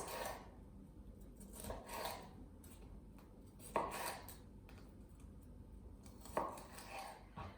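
A kitchen knife slicing food into strips on a cutting board, with quiet, spaced chopping taps and soft scraping strokes repeating every second or so, close and faint with no talking.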